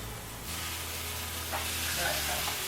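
Vegetables frying in a pan, a loud hiss that swells as they are stirred, with scraping and tossing sounds and a brief voice in the background.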